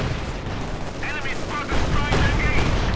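Panzer IV tank fire and battle noise from Company of Heroes 2, a dense stretch of gunfire and rumbling blasts in a multiplayer match, loud throughout with a heavier burst near the end and no clear speech.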